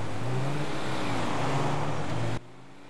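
A car engine drones steadily as it drives in the GTA 5 video game, a sustained, fairly loud hum that cuts off abruptly near the end.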